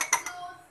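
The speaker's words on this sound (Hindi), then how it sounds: "इसको अच्छी तरह से फेंट लें।" A spoon clinks quickly against a mug as chocolate mug cake batter with cocoa powder is whisked, giving a few faint, sharp chinks close by, with quiet talk nearby.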